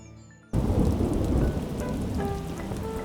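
A thunderstorm in a video game level comes in abruptly after a quiet musical opening, a heavy roll of thunder over dense, steady rain. The rain keeps hissing as the rumble fades, with faint musical tones on top.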